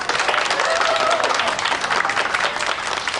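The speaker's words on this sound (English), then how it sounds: "I think we need a round of applause for Mr. Tan." Steady applause from an audience for Mr. Tan, dense clapping filling the room evenly from start to finish, with a few voices faintly mixed in.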